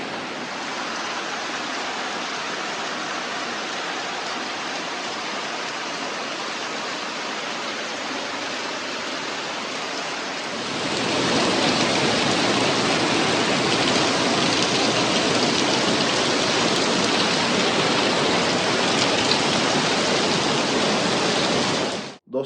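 Heavy monsoon rain pouring down in Mussoorie, a loud unbroken roar of water that grows even denser and heavier halfway through, steady to the end with no voices.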